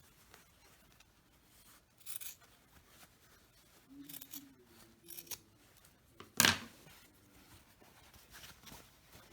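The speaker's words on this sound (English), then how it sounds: "You want to also trim that other corner." Scissors trim a fabric corner of a sewn tote bag in a quiet room, giving a few soft, separate snips. One sharper, louder cut lands near the end.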